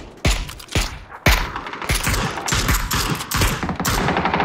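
Rapid bursts of UZI submachine gun fire in PUBG, several sharp volleys in quick succession followed by sustained close automatic shooting, loud and dense with no talk over it.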